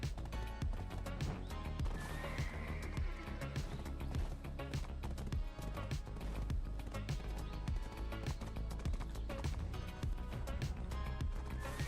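A galloping horse in a video game, hooves pounding in a steady rhythm with whinnies mixed in, dense and continuous over game sounds.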